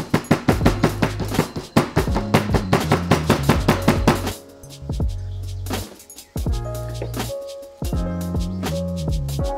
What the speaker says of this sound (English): Tap firmly on the counter.